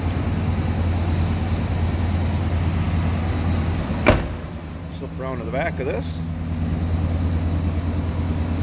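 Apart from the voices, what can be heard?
1993 Chevrolet C1500 5.7 liter engine running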